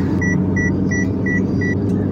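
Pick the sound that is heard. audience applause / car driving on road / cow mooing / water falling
car driving on road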